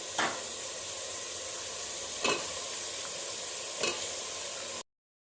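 Mushrooms fry in oily, well-cooked masala for mushroom biryani: a steady close sizzle with a few sharp stirring clicks, then it cuts to silence near the end.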